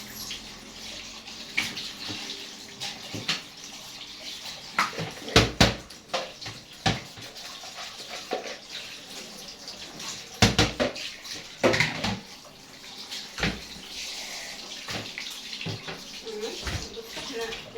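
Food is washed under a running kitchen tap, with splashing water and clattering dishes and pots rising and falling in bursts over a steady trickle, and a voice talking now and then in the background.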